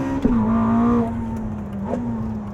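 A new Ferrari Testarossa engine pulls hard with a strong rising tone, then a brief dip as a gear change cuts in and the note resumes climbing, steady and close without any talk.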